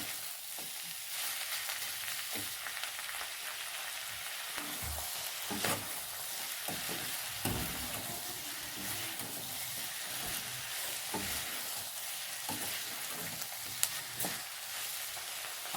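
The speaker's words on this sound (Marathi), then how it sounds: "कांदा व इतर पदार्थ चांगल्या प्रकारे परतून घ्यायचे आहे" Sliced onion and capsicum sauté in a hot kadhai for soybean chilli, giving a steady close sizzle broken by repeated scraping stirs, with no talking.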